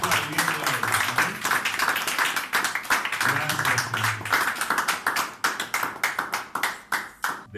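A church congregation applauds, a dense wash of many hands clapping that breaks into sharper, more spaced rhythmic claps, with voices calling out over it.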